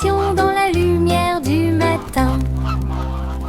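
Geese honk loudly as a sound effect within a French children's song, a run of close, tonal, nasal honks in quick succession that slide in pitch, heard over a steady low musical drone.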